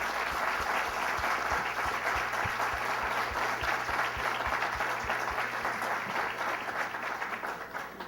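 Sustained, even applause fills a conference hall during an institutional panel session, many hands clapping together without pause before it tapers slightly at the end.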